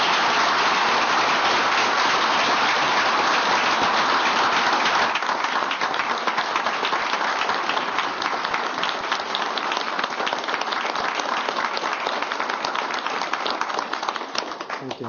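Sustained audience applause at a tribal council meeting, a dense steady wash of many hands clapping that carries on for the whole stretch and thins slightly near the end.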